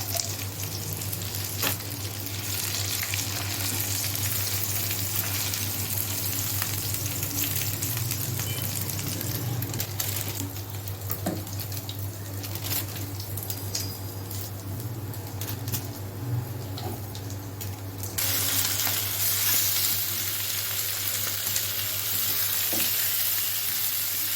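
Food sizzling and frying steadily while grilling on a gas stove, a loud continuous hiss running throughout with faint clatters, and no talking.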